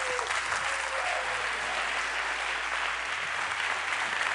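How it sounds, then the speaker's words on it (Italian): Studio audience applauding at a music interview event, dense steady clapping that fills the whole stretch without pause, heard alone with no talk. "fate un grandissimo applauso"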